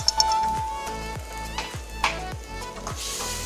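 Tomatoes sauté in a pan for dal khichdi, a soft sizzle broken by a steady run of light clinks and scrapes as the spoon stirs, close and moderately loud.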